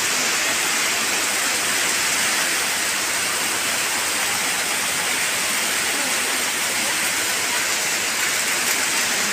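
Heavy rain during Typhoon Paeng in Zamboanga City, a loud, steady, unbroken hiss of downpour with no talk.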